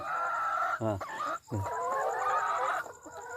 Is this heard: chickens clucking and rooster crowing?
yes